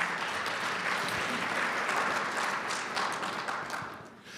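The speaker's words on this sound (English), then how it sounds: "How about a round of applause for all of our sponsors?" A conference audience at an energy event applauds the sponsors, a thick steady roar of many hands clapping throughout, easing slightly toward the end.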